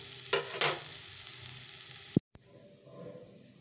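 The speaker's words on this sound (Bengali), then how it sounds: "দেখো একদম ছোটো আলুটা ভেজে গেল" Small potatoes frying in a pan give a steady close sizzle with two brief louder bursts early on, then a sudden cut to near silence before a softer, fainter sizzle resumes.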